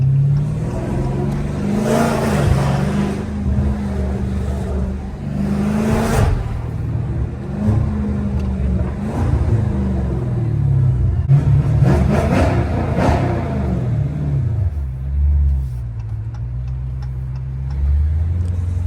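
A Dodge Challenger Scat Pack with the 392 engine cruising through Philadelphia streets at night, its deep exhaust rumble steady and close, swelling in a few brief revs between stretches of even driving.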